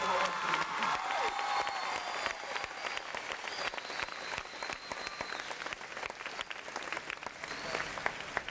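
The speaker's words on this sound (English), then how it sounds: "Big round of applause for the 8th grade." An audience at a middle school graduation applauds the 8th grade graduates, with a sustained, fairly distant wash of clapping and a few scattered cheers in a large hall.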